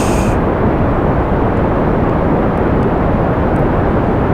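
A rocket launching in the video game Kerbal Space Program, heard as a loud, continuous broadband engine roar that holds steady and close throughout.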